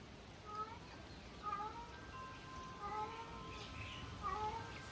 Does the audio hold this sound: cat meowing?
yes